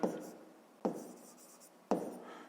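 Pen strokes on paper while solving a fifth-grade maths exercise, three short scratchy bursts that each start sharply and trail off, close and quiet, with no talk.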